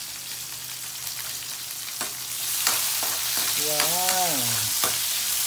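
Onions and tomatoes sizzle and crackle in a hot pan with a few stirring knocks, a constant frying hiss close by, and a brief exclaimed voice over it.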